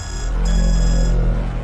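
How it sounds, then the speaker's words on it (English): Security lockdown alarm in a video game, a loud, continuous electronic buzzing tone with steady harmonic hum, sounding alone and close. "It's, some sort of alarm, ma'am."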